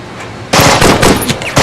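Loud bursts of automatic gunfire and rapid shots in an action film, arriving suddenly after a quieter stretch and continuing in dense, close volleys without talk.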